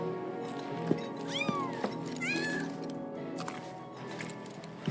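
A cat's meows from Final Fantasy VII Rebirth, a few rising and falling calls over a steady bed of game music, with soft thuds in between.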